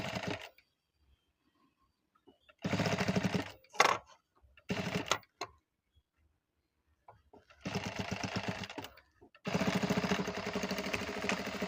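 An electric sewing machine stitches a blouse in several rapid, rattling bursts separated by quiet pauses, close and loud, with the last run sustained longest.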